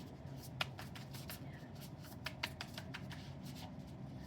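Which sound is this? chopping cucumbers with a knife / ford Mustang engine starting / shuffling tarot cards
shuffling tarot cards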